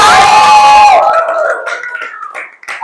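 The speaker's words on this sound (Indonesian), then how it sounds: "tepuk tangan dulu untuk kita semua" An indoor audience at a gathering claps and cheers loudly for about a second, then the sound breaks into scattered claps and shouts that fade out.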